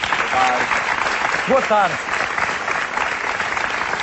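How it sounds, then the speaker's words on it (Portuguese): Studio audience applause welcoming two guests on a Portuguese daytime TV show, steady dense clapping throughout with a presenter's greeting spoken over it. "Um aplauso para os dois e muito boa tarde."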